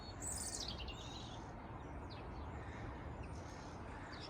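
Faint chirping of birds singing in a December garden, a few high calls scattered over a steady background hiss, distant and soft with no voices.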